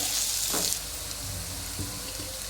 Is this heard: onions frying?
yes